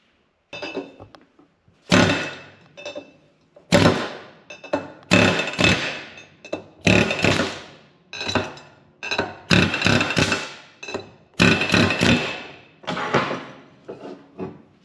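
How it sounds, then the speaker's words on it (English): Air chisel driving wheel studs out of a Chevy/GMC C1500 truck hub, heard as a string of about nine loud, sharp bursts of pneumatic hammering, each a second or so long with short pauses between, close up and without talk. "We're just going to use the air chisel here, pop them all out."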